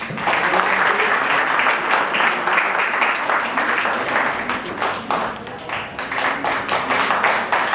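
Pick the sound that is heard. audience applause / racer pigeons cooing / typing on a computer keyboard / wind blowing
audience applause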